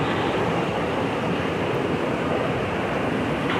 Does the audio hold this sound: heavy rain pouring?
yes